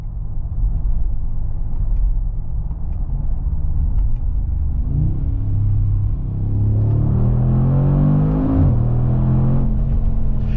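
Mercedes G-Wagon with a 600 HP engine pulling hard in first gear, a deep steady engine rumble that rises partway through into a loud climbing roar with sweeping harmonics, then a sharp drop near the end before it builds again.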